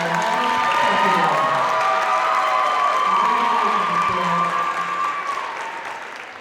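A crowd applauds and cheers at a Section 6AA high school gymnastics final between Wayzata and Hopkins after a vault gold medal, steady loud clapping with whoops and voices throughout, tapering slightly at the end.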